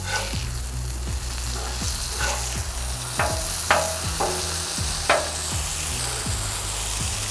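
Onions sautéing on a burger griddle: a steady close sizzle runs throughout while a spatula scrapes and clacks against the metal about half a dozen times, with no talking.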